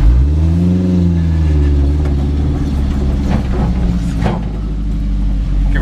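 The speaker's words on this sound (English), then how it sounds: "Oh, much better on the top end. Then it hits the rev limiter." A cheap Chinese truck engine revs up hard toward its rev limiter, a loud, close drone rising steadily in pitch before sputtering against the limiter.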